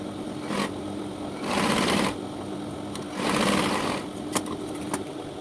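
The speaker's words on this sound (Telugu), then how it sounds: "పైన వైపు క్లాత్ అటు ఇటు జరగకుండా పైన వైపు ఒక కుట్టు వేయాలి" Sewing machine stitching blouse cloth in two short, moderately loud runs of stitching, with a steady background hum and a few light clicks between them.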